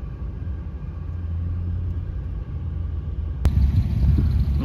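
Race cars run test laps on a track, a steady low rumble of engines heard at middle distance, with a sharp click and a louder, nearer engine roar in the last second.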